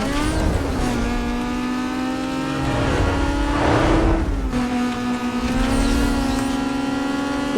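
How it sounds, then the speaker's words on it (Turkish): A modified Nissan 240SX slides and revs in Need for Speed Most Wanted, a loud sustained engine whine with rising harmonic pitch, a brief dip near the middle, then climbing again. "Ya araba sen ne biçim kayıyorsun ya?"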